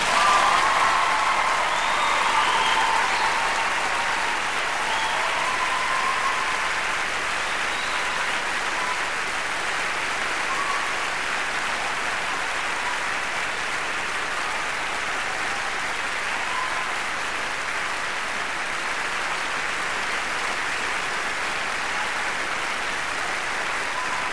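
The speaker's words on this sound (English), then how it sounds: "can we just give these musicians the applause that they really deserve?" Sustained applause from a concert hall audience for young classical musicians at a national music competition grand final, a dense, even roar of many hands clapping throughout, loud and steady with no talk over it.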